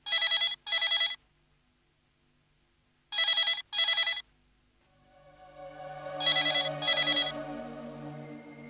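A telephone rings at night in a quiet house, two paired bursts followed by a pause and then a third pair, with a low droning music bed swelling in beneath the last ring.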